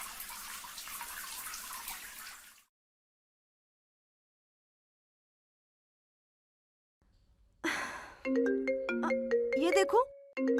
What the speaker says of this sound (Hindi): ये देखो, आइसक्रीम वाले का फिर फोन आ रहा है।